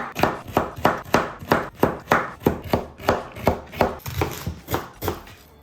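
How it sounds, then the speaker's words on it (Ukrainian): A knife chops carrots into small cubes on a cutting board, about fifteen crisp, evenly spaced strikes in a brisk rhythm, close and clear with no talking. "Морку нарізаємо невеличкими кубиками."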